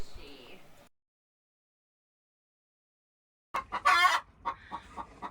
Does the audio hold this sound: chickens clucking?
yes